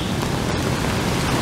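Heavy downpour after thunder on a city street near Quezon City, a dense, steady hiss of rain with no break, close and fairly loud.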